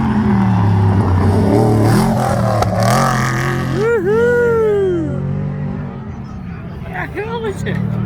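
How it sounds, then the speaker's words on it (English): A stadium truck in the Finke Desert Race roars past the finish line, its engine note rising and then sweeping down as it passes close and loud, with people talking nearby. "Here comes the first truck. This is Stadium truck."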